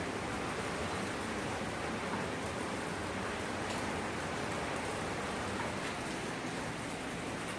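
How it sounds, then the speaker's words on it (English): Steady, dense rain hissing loudly with a broad roar of wind-driven downpour from Hurricane Matthew, continuous and unbroken throughout with no voices. "it'll rain this way, and then all of a sudden the wind will blow"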